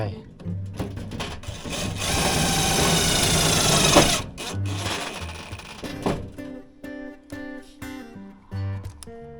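Power drill driving 3/4-inch No. 8 self-drilling screws into a remote-door cabinet being assembled, a sustained whirring burst of about four seconds followed by shorter quieter bursts, with someone talking in between.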